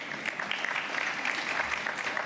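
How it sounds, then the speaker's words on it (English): An audience at a press conference applauds in a brief burst of steady, moderately loud clapping. "You can clap for that one, too."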